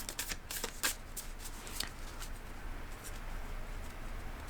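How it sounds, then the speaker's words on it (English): An oracle card deck is shuffled by hand before a card is pulled, a quiet run of close, papery flicks and riffles in irregular bursts with soft rustling between them. "I'm going to pull a card from the Starcodes Astro Oracle"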